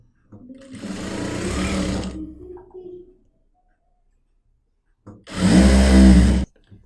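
A sewing machine stitches a narrow rolled, folded hem along the edge of a bedsheet in two loud bursts, the first about three seconds long and the second shorter, with a quiet pause between them.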